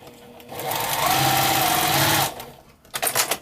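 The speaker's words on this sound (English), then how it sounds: "I'm gonna take a little strip here and I'm gonna sew it on the side of this orange" A sewing machine stitches a fabric strip onto a scrappy log cabin quilt block. It runs steadily and loudly for under two seconds, then stops, leaving quieter handling noises.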